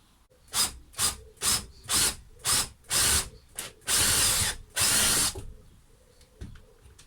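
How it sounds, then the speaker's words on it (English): A router bit cutting a guitar control cavity into wood, heard as a series of loud, close bursts of high-pitched whining cuts, short at first and then longer, with brief pauses of quiet between them. "from the other side is use a router bit to make the control cavity"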